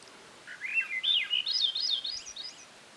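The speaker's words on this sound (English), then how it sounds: "Just listening to the birds." A single bird sings a warbling, rising and falling phrase lasting a couple of seconds, clear over a quiet early-morning forest background.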